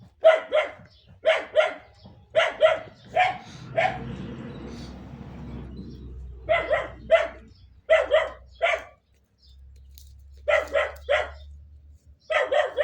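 A dog barks in repeated bursts of two to four sharp barks with short pauses between, loud and close, with a low rumble in the background during a longer gap.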